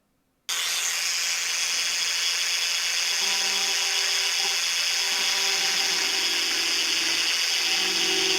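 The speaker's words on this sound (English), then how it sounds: "the next step is to drill a hole with the smallest drill you have all the way through in each corner" A steady, high-pitched whine of a small power drill boring through the plastic handle scales of a Victorinox RangerGrip knife runs continuously after a brief silence, close and loud, with no talking.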